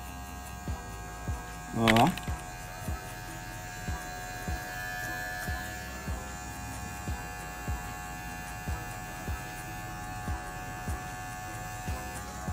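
Electric hair clippers fitted with a guard hum steadily while cutting a fade, with soft regular ticks from the passes and a brief louder clatter early on; a voice speaks briefly.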